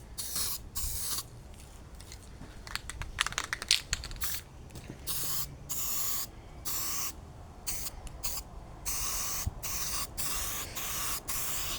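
Spray paint hisses from an aerosol can onto a 3D printed RC vehicle part in repeated close, loud bursts separated by short pauses, with faint clicks and rattles between passes.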